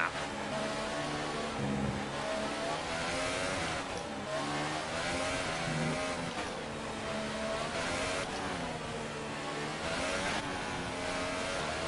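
Formula 1 car engine in the F1 2018 video game during the formation lap at the Japanese Grand Prix, a steady loud drone with rising and falling revs as the car is warmed up, heard alone.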